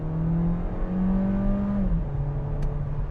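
An Audi A3 Sportback 35 TFSI Black Edition accelerating hard from inside the cabin, engine drone rising steadily in pitch, dropping briefly at a gear change, then climbing again.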